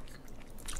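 Sea cucumber being chewed and bitten, a close, steady run of soft squishy crunching and mastication with no talk.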